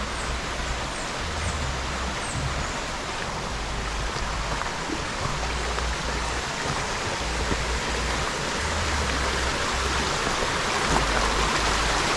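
A steady, even rush of creek water beside a wooded campsite fills the whole stretch, a constant broadband hiss, with no voices.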